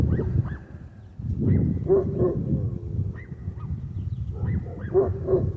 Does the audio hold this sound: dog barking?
yes